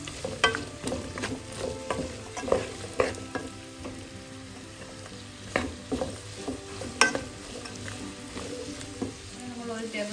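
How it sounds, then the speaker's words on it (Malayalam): Sliced onions with ginger and garlic get stirred and sautéed in a pan for pepper chicken, a spoon clacking and scraping in a steady rhythm over a constant close sizzle. "എല്ലാം കൂടെ നന്നായി ഒന്ന് വഴറ്റാം"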